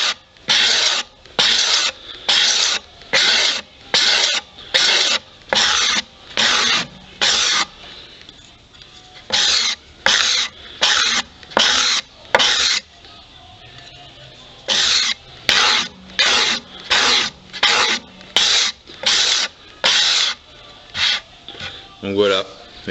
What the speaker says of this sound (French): le racloir c'est pas un outil qui gratte en fait